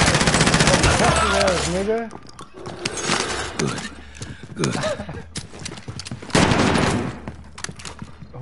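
Gunfire in a PS4 shooter game, rapid bursts of clattering shots in a quick rhythm, heard under and between excited voices talking.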